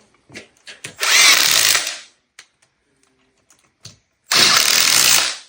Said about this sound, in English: Grab your drill.